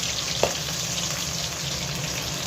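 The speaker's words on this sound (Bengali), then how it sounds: "এই দেখো মাছ ভাজছি, ভেটকি মাছ, এটা দুটো করে ভাজছি" Bhetki fish, two pieces at a time, fry in a pan with a steady, close hissing sizzle that stays even throughout, broken once by a small clink.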